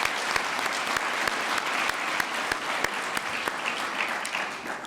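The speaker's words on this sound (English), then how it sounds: "And big claps." Applause from an audience at an awards gala, a steady wash of many hands clapping with sharp individual claps standing out throughout, sustained and fairly close.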